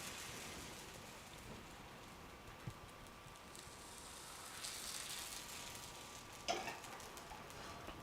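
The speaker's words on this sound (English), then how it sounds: "you have to hear the sizzle. You really want to hear the sizzle." A mung bean and egg batter sizzles in a hybrid nonstick pan, a soft continuous crackling hiss with occasional louder pops, steady and fairly quiet, without talking.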